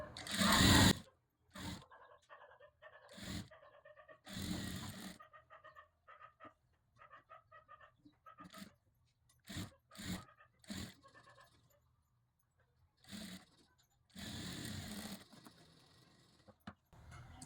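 Sewing machine stitching a katori blouse in short bursts, each run of stitching starting and stopping abruptly with pauses of quiet between, the motor whir close and clear with no talking.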